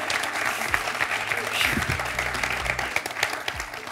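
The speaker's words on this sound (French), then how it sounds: "On peut applaudir Marilène." Studio audience applause on a French television quiz show, a steady burst of clapping filling the room while a host's voice speaks over it.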